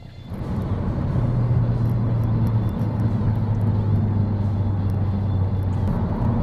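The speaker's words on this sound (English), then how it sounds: "I almost swear the turbo sounds a little bit louder where it shouldn't" Ford Focus ST turbo engine pulling hard through the gears, a loud sustained droning rumble with a rising tone that holds steady under cabin noise.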